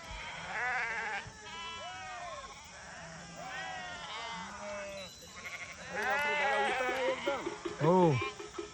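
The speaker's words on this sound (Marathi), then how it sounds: "हो, ही मेंढी माऊली." Sheep travelling with a Balumama palkhi procession bleat repeatedly nearby, several wavering calls overlapping in a loose chorus that grows louder toward the end, with crowd murmur behind.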